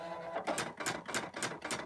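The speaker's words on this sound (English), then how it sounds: "Watch the tool head on your cutter zip back and forth." An electronic cutting machine's tool head zips back and forth while cutting media, giving a steady run of rhythmic mechanical whirring passes, about five clear strokes in under two seconds, close and moderately loud with no talk.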